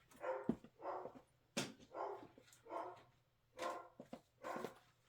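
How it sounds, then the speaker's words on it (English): Several dogs bark in repeated bursts at mid distance, about six separate barks spread over a few seconds, with a faint steady hum underneath and no talking. "You're gonna hear barking dogs"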